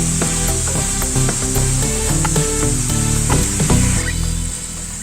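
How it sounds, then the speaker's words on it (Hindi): Potato lachha strands fry in plenty of hot ghee over a medium flame, a loud, close, continuous sizzle with clinks and scraping of a utensil stirring in the pan, no voices. "आलू लच्छे को तलने के लिए घी ज्यादा चाहिए और उसको हम फ्राई करेंगे"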